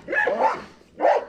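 An American pit bull terrier, a female, barks twice close up, two full-throated woofs separated by a short pause, with no talk over them.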